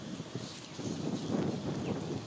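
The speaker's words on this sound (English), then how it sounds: "Oh, it's very windy." Steady, blustery wind buffets the microphone with a broad rushing roar, swelling slightly midway, and no voices.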